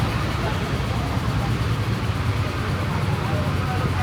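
A ferry engine drones steadily while crossing the Mekong River, a low continuous rumble heard from a little way off with faint voices beneath.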